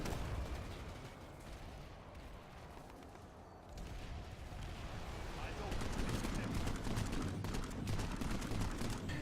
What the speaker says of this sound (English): you really gotta burst only a couple shots at a time like that